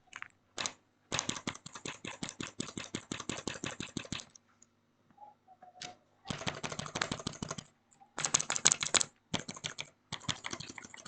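Typing on a mechanical keyboard fitted with budget Outemu switches, heard as rapid, close bursts of sharp clacky keystrokes in several runs with short pauses between them and no talking.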